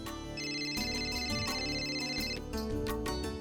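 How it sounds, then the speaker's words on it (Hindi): A steady electronic ringtone warbles continuously over a dense musical backdrop, loud and unbroken throughout. "लो आ गया फोन।"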